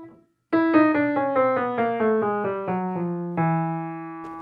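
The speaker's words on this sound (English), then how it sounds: "if I was to play a run of semitones going upwards, I would just be playing notes next to each other like this." An upward run of adjacent semitones played on a single pitched instrument, about a dozen evenly spaced notes stepping up one after another, clear and close with no talk.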